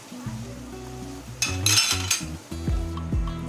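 Ground spice masala frying in oil for a patvadi rassa curry, sizzling under music with harmonic tones, with clinks and stirring scrapes of a spoon against the pan.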